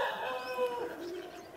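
Ducks kept in a small mini zoo give a run of close, fairly loud bird calls with no voices over them.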